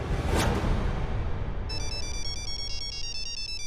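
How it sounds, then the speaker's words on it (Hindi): A phone ringtone starts partway through, a bright repeating electronic melody over a noisy background rumble. "हमारे पति का ही फोन है"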